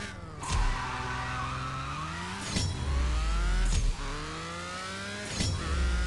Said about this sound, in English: this Nissan is so dope. And it's gonna top out at 225, and then we hit the finish line.